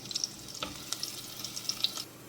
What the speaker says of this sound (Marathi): सो तेल तापलेलें आसा तो पयलीं लसूण घालता